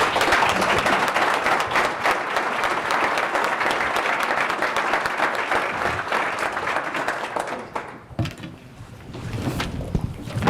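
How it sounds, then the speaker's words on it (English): An audience at a business conference gives a sustained round of applause, many hands clapping densely for about eight seconds before fading, followed by faint room noise and a brief resumed burst. "let's give them a round of applause"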